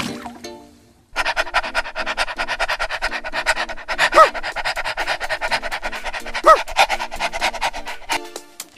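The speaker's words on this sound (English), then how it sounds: "Dog." A dog pants rapidly and steadily up close, with a couple of brief higher yelps or squeaks partway through, after a moment of quiet at the start.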